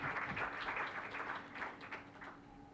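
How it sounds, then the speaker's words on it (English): An audience at a health conference on ageing and dementia care applauds a speaker: a faint, steady wash of clapping that slowly tapers off. "Please join me in giving him a huge round of applause"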